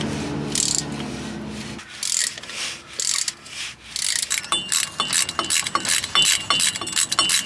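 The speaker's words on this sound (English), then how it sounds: "Now that all four bolts on this side are loosened, we'll use the ratchet, undo them." Ratchet wrench clicking rapidly as it undoes tail shaft bolts under a Suzuki Jimny, close and loud with bursts of fast pawl clicks and brief pauses, after a short low mechanical hum at the start.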